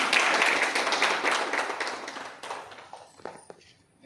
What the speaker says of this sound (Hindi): आप सभी मुझे अपने तालियों से आदेशित कीजिए